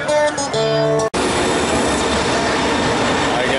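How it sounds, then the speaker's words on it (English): Subway train riding on rails in Brazil, a steady loud broadband rumble and rattle that fills the whole clip after a short burst of tonal noise at the start. "So we are back on the subway,"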